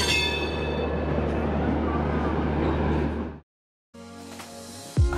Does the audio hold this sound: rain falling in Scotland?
no